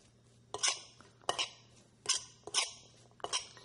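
Soaked pistachios stirred in a bowl with a spoon: five distinct clinking, scraping strokes in a loose rhythm, close but quiet, over a faint low hum.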